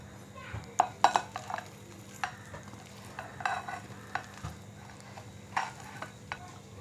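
Mashed potato and cooked Maggi noodles are mixed by hand in a bowl for cutlets, giving soft squelching and irregular sharp clicks and knocks against the bowl.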